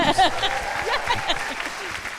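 Audience applause at a live economics show, steady clapping under overlapping voices and speech throughout.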